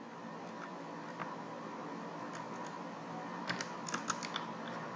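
Typing C++ code on a computer keyboard, a run of soft, steady key clicks with a few louder taps near the end, heard over a constant hiss of background noise.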